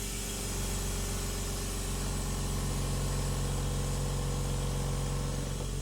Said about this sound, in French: avec ce fameux compresseur, tu vas pouvoir gonfler la roue